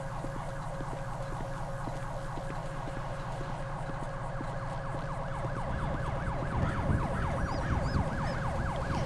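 An ambulance siren in Grand Theft Auto V wails continuously in a fast repeating up-and-down pattern over a low engine rumble, loud and close, growing slightly stronger toward the end with no talking.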